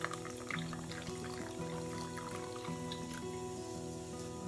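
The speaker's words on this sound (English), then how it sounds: "And then let's put some soy sauce." Soy sauce poured into a chicken marinade, a steady continuous stream over a constant background hum, with no voices.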